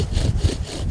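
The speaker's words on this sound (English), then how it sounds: "how to make a fire with a bow drill" A wooden bow drill is worked to make fire in the Utah desert, with a rough, rhythmic rasping of wood grinding against wood in quick back-and-forth strokes, close and loud.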